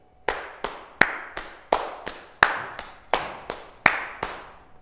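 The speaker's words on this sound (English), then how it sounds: "So when we speed it up and we put it all together," Body percussion pattern played by hand: a run of about a dozen sharp, close claps and slaps in a quick, steady rhythm, with every few strikes accented a little louder, alone with no talking.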